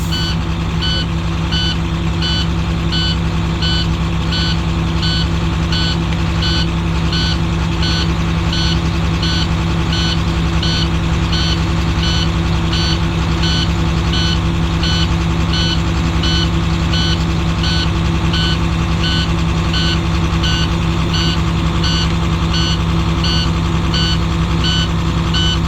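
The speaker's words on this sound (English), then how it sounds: "the buzzer went out around 72 psi" A First Student school bus's low air-pressure warning buzzer sounds continuously during a Class B air brake test, a steady pulsing electronic tone over a loud idling diesel engine, unbroken and close.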